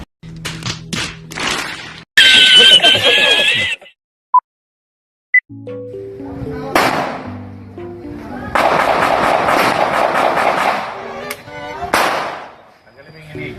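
Several sharp gunshot cracks ring out at a firing range amid outdoor talk, with loud bursts and short gaps, some close together, others spaced apart.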